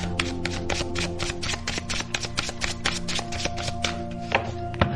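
Tarot cards drawn and shuffled by hand during a love reading, a steady run of quick papery riffling taps with a few sharper snaps, close and continuous, with a low steady hum underneath and no talking.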